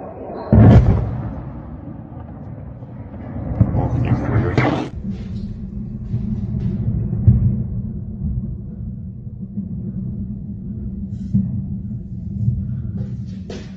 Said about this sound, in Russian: Еще один взрыв.